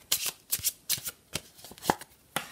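Kipper fortune-telling cards shuffled and drawn by hand, a string of quick papery riffles and slaps in uneven bursts, close and fairly quiet.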